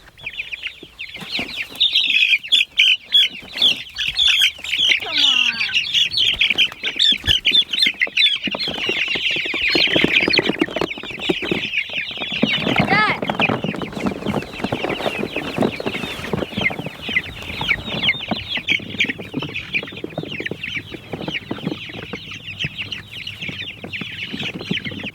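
Cornish cross chickens cluck and squawk loudly and almost without pause for the whole stretch, a dense close-up chorus of birds bunched together, with a few brief flutters among them.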